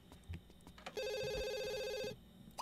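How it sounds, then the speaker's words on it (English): A telephone rings in The Sims 2, one steady electronic ringing burst lasting about a second, loud and clear over quiet game background sounds. "Can you answer the phone?"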